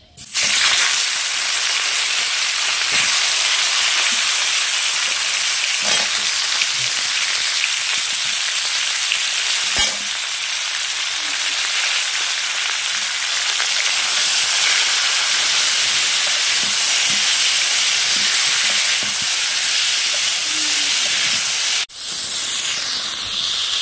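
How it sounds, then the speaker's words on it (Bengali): Cauliflower pieces frying in hot oil in a pan give a loud, steady, continuous sizzle and hiss throughout, with a few faint clinks and scrapes of a utensil. "এখন ফুলকপিগুলো ভেজে নেব ভালো করে"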